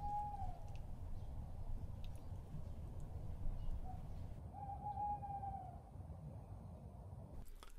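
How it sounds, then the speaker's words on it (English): Soft owl hoots call out a few times in the distance outside at night in a quiet village, over a quiet, low background hum, with gaps of stillness between them. "It was so quiet in the village that you could hear the owls outside."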